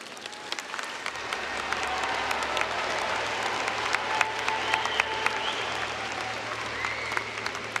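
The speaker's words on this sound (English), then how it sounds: "Let's recognize the graduates of the Business Division with a round of applause." An audience at a Cincinnati State commencement gives a sustained round of applause for graduates, dense, even clapping from many hands heard from within the hall.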